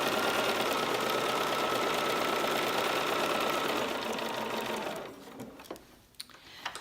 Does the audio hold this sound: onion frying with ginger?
no